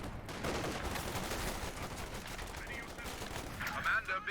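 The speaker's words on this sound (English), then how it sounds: "Anyway, Lieutenant opening fire." Gunfire in the Company of Heroes 2 strategy game, with dense crackling bursts of rifle and machine gun fire and battle noise, loud and continuous throughout.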